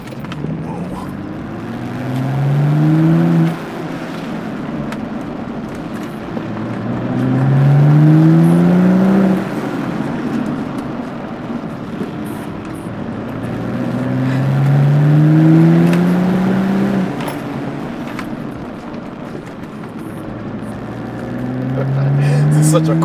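A BMW 335i driving a proper lap on a race track, its engine rising and falling in long repeated sweeps as it accelerates and shifts, loud and steady throughout with no one speaking.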